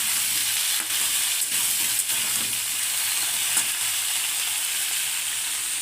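Potatoes fry with spices in a pan, giving a steady, close, dense sizzle and hiss that runs unbroken with a few faint stirring knocks and no talking.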